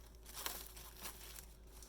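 Soft crinkling of plastic wrap in a few short bursts, close and quiet, with no talking.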